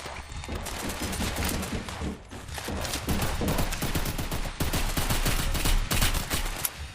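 Rapid automatic gunfire in the VR shooter The Burst, dense continuous bursts of loud shots with brief breaks between strings.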